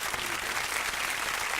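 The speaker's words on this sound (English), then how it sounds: "Let me give her a round of applause." A radio show studio audience applauds a guest, with a dense, even wash of clapping that holds steady and fairly quiet for its whole short length, without talk.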